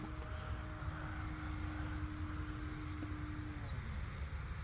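An E-flite Decathlon RC airplane's electric motor run at full throttle while flying in the rain, a steady continuous drone heard at a distance, faint and unbroken against outdoor background noise.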